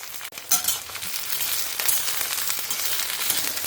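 Food frying in oil until crispy, a steady loud hiss and crackle that runs unbroken throughout, with a few faint clinks near the start.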